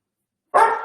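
A pet dog named Mary gives a single short bark that begins abruptly after half a second of silence, loud and close, with no talking over it.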